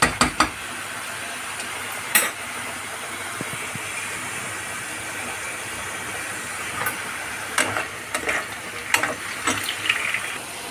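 French fries fry in oil in a pan, giving a steady, soft sizzling hiss throughout, broken by a few sharp clinks and scrapes of a utensil against the cookware.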